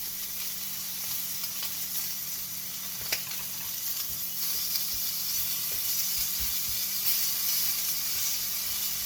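Maple bacon sizzles and hisses steadily in a frying pan as the strips are flipped, a continuous close crackle with a small clatter near the three-second mark.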